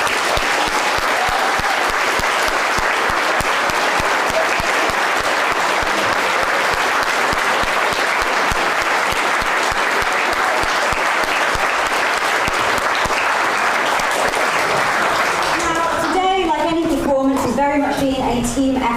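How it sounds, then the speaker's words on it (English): Sustained applause from the audience at the ESU Performing Shakespeare Grand Final, loud and dense clapping filling the hall before fading out near the end as a voice begins speaking. "Another round of applause for everybody"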